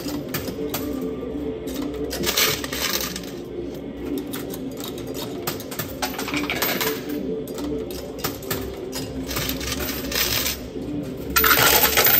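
Tokens clatter and drop inside a coin pusher arcade game, with repeated metallic jingles and clinks over a busy arcade hum, including a louder burst of tumbling coins near the end.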